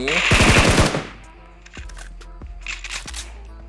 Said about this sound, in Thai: ยิงไปก่อนขู่ไปก่อน นัดแรกเดี๋ยวมันขี่รถหนี